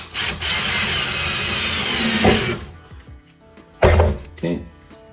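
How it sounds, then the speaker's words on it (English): A power drill whirs steadily into wood, drilling a pilot hole for acoustic panel stands, for a couple of seconds, then stops; a few clinks and short bursts of handling noise follow, with a voice nearby. "we'll just drill our second pilot hole"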